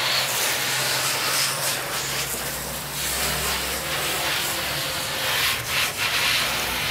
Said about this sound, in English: Keep scrubbing, we'll get there.